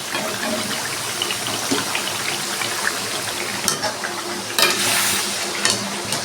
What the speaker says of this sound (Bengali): আমি একটু ভেজে নিচ্ছি আগে